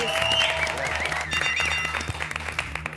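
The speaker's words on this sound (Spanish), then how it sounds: "Pido un aplauso, Luis Brandoni." A TV studio audience claps and cheers for an arriving guest in a busy room, applause rising and thinning out while voices and background noise carry on underneath.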